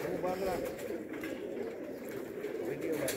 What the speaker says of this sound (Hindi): माशाल्लाह पिछे इन्हां दे कबूतरां दा सैटअप है जी